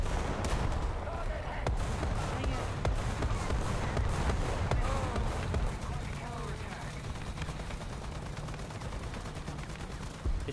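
Tank cannon fire in a tank battle video game: repeated booming gunshot-like blasts over constant rumbling engine and battle noise, loud and dense throughout, with voices talking over it.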